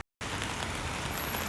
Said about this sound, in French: Devinez, comme d'habitude il pleut.